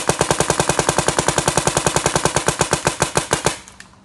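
A DYE DSR paintball marker fires a rapid, steady string of about thirty sharp pops, loud and close, before stopping abruptly with a short fading tail.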